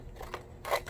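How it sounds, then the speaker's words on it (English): Scissors trim excess paper in a few quick, close, crisp snips while a paper craft box is being made, with no talk over the cuts. "we're going to cut off the excess here"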